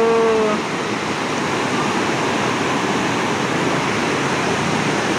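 A river waterfall roars as a dense, continuous rush of falling water, loud and close, with a brief tonal sound at the very start before the steady torrent carries on alone.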